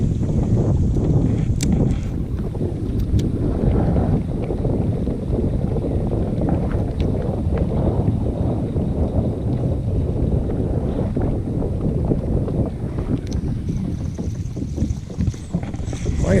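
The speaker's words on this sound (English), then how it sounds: "That dang wind coming across this reservoir is just not making life easy for me" Strong wind gusts across an open reservoir, buffeting the microphone with a steady roar from a small fishing boat, continuous and loud throughout with no talking.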